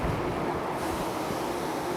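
Water from a plenum flush runs steadily on a semiconductor wet bench after an RCA clean, a continuous loud rushing wash that stays even throughout.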